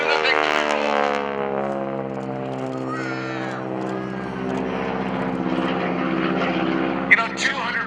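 A propeller fighter airplane at an airshow drones loudly and steadily overhead, its engine pitch shifting slightly as it flies its manoeuvre.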